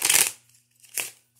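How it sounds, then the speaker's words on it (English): A deck of playing cards is shuffled in two quick riffling bursts, close and crisp, with a short quiet gap between them. "I give it a shuffle"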